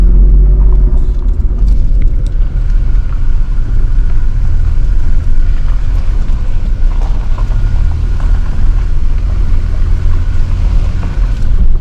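A car travels a winding mountain road in Appalachian Ohio along the Ohio River, giving a steady close engine rumble and road noise throughout with no talking.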